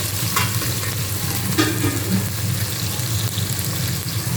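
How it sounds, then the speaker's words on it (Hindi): Onions frying in hot oil for keema karahi, a close, steady sizzle with stirring scrapes throughout. "अब मैं इसमें प्याज डालूँगी।"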